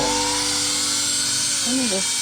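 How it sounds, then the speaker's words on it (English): Power drill boring into a garden support for a heavy watermelon vine, a loud, close, continuous whine that holds steady and then dips and wavers in pitch toward the end. "So let me drill it."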